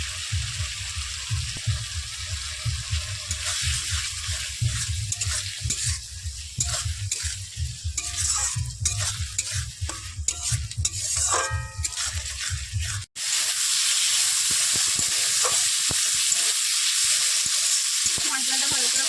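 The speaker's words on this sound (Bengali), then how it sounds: "দিয়ে ভালো করে আবারও কষে নেব" Spice paste and Gobindobhog rice fry together in a pan for a vegetarian banana-flower dish, with a dense run of scraping stirs over the sizzle, then a steadier, louder hiss of frying alone.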